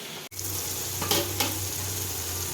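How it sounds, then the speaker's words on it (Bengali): Sliced ridge gourd frying in a pan, a close, steady hiss of hot oil with a couple of brief stirring scrapes partway through and a faint low hum underneath. "এই ঝিঙেটা এখন আমি ভেজে নিচ্ছি"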